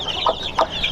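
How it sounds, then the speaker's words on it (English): Blackjack hen crossed with another breed gives two short, close clucks a beat apart over faint background noise. "This is the blackjack hen."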